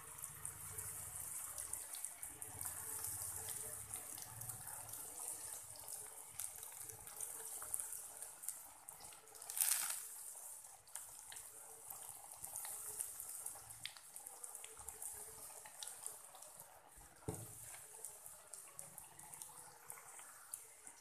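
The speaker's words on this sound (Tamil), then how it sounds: "இப்போ வந்து நம்ம ரெடி பண்ணி வச்சுருக்க இந்த நக்கட்ஸை ஒன்று ஒன்றா போட்டு பொறிச்சு எடுப்போம்" Chicken nuggets dropped one by one into hot oil, frying with a steady bright hiss and crackle throughout, one louder sizzling burst midway, no voices.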